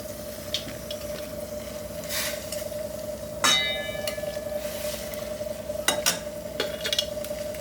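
Chopped papaya for a sweet chutney cooking in boiling liquid over a high flame, a steady close bubbling sizzle with a sustained tone, punctuated by a few sharp clinks and stirring scrapes.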